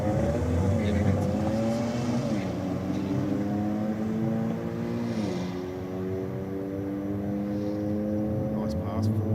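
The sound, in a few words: grey Audi race car making a drag strip pass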